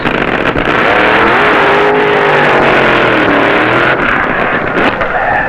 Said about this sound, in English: These cars have greatly modified supercharged engines and run on special nitro fuel.